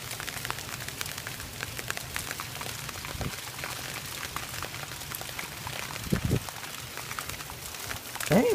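Hail falling outside during a storm, a constant dense patter of small impacts with a few louder knocks, steady and fairly close.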